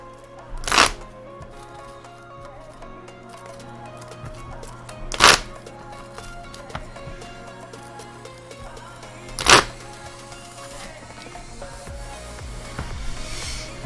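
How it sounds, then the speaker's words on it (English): Three short crisp bursts of Middle-Earth CCG cards being riffled, spaced a few seconds apart over a quiet room hum, no voices. "Let me shuffle up my hero side."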